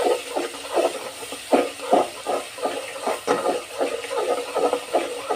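Ginger and garlic paste sizzles and spatters in hot oil in a pan, with irregular crackling bursts over a continuous hiss, close and fairly loud, with no talking.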